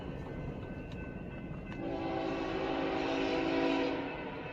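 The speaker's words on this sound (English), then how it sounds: "a man on an ATV, accompanied by his dog, narrowly avoids a fast-approaching train at a railroad crossing" A fast-approaching train nears a railroad crossing, a low, distant rumble joined partway through by a sustained horn blast that swells and then fades.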